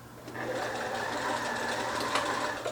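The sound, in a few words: sewing machine stitching two lace pieces together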